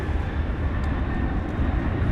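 Airliners at Dallas Fort Worth International Airport in Texas at night, a steady broadband jet engine roar that holds constant and fairly loud throughout with no speech.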